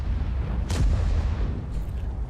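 Tank cannon fire in World of Tanks on Malinovka: a single sharp boom with a rolling low rumble, over a constant deep engine drone, followed by a fainter distant report.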